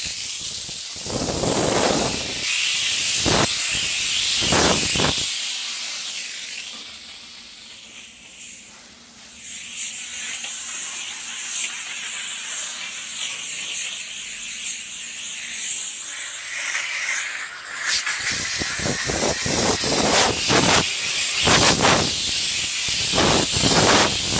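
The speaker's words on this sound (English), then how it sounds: "the steam is not going to get the tar off" Loud, steady steam hissing from a Chief Steamer 125 PSI steam cleaner washing a car runs for a long stretch, bracketed by rougher spraying bursts at the start and end, with no talking.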